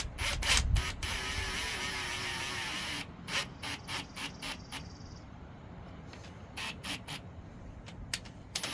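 A ratchet clicks in quick bursts while tightening brake lock nuts on a Farmall 450 diesel tractor, with sharp metallic pawl ticks, a sustained clicking run, then scattered single clicks against a quiet workshop background.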